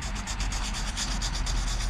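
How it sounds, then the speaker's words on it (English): Sandpaper rubs rhythmically over a spider crack on a Subaru WRX body panel during bodywork, a close, steady scratchy swishing in quick back-and-forth strokes. "So what I'm gonna do is I'm just gonna sand it"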